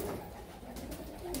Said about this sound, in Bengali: এই পায়রাগুলো আমি নিজে ওরা দেখে বসে কিনে নিয়ে এসেছি।